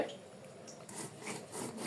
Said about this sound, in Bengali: এখন এটি এ পাটা পেস্ট করে নেওয়া হচ্ছে